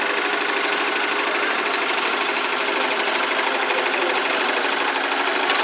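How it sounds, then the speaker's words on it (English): A small vintage tractor engine at an agricultural show arena runs with a rapid, rattling mechanical chatter, steady and loud at close range, its revs hunting slightly without clear surges. "A young gentleman here on this little tractor here. You can hear the revving of it."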